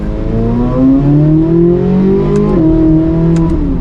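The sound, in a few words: stock 2024 Chevrolet Corvette C8 Z06 exhaust revving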